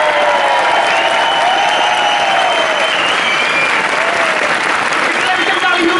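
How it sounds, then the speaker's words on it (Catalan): A crowd at the 2017 Solsona carnival bursts into loud, sustained applause, a thick unbroken roar of clapping with cheering and shouting voices mixed in throughout. "Només faré la bramada si es fa un aplaudiment molt fort."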